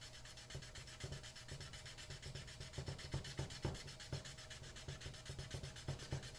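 Hand sanding of a gel coat repair on the rudder of an ILCA race dinghy with 800-grit paper, a faint, rhythmic rasping of back-and-forth strokes heard up close.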